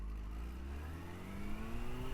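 Yamaha FZ6 motorcycle engine revving up hard, its pitch climbing steadily in a strong, close acceleration that stays loud and continuous with no talk over it.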